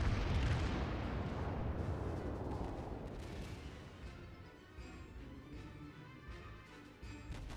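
A heavy battleship gun salvo in World of Warships booms loudly at the start, then its deep rumble slowly decays into a quieter, lingering roar.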